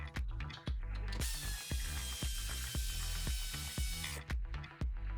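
An impact gun hammers out the 19mm bolts on a Toyota 86 rear differential in a garage, a rapid, close rattling of blows with a brief high whirring spin partway through.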